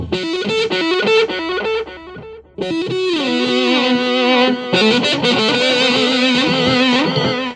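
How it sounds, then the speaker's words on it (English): Distorted electric guitar runs through a tape echo setting on a multi-effects pedal with loop recording, with loud picked notes and chords trailed by smeared, repeating echoes and a short pause partway through. "This is the tape echo."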